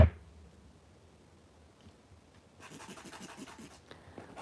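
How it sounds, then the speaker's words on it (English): A nail file rasps back and forth against press-on nails, starting partway through as a steady series of close, soft scraping strokes after a quiet stretch. "So I'm just grabbing my file like that, and I'm literally filing down this way."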